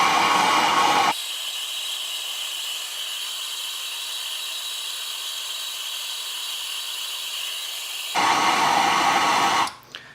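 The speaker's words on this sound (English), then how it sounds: "I got it sitting in a vise right now and a propane torch." A propane torch roars with a steady, loud hiss while it heats a 1987 Buick Grand National cam sensor body held in a vise. The flame grows harsher near the start and end, then cuts off.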